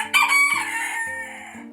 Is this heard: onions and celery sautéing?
no